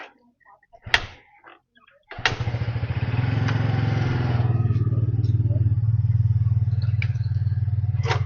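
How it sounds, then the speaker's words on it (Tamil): A scooter engine starts after a few door clatters and then idles steadily and loudly for several seconds, ready to set off on a family trip to Gudalur. "வண்டி ஸ்டார்ட் பண்ணியாச்சு. கிளம்ப போகிறோம்."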